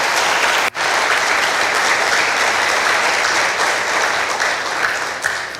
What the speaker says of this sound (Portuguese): Então dê um aplauso ao Senhor bem forte.